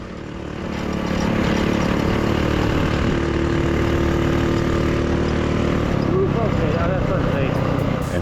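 A 224cc mini ATV engine on a street speed test swells at the start into a loud, steady, buzzing drone that holds close and constant to the end.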